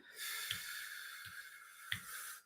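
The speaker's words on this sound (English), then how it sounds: "We're going to breathe in. 2, 3, 4. Breathing in." A choir group breathing in together during a warm-up, a steady airy hiss with a few soft catches, moderately faint and without talk.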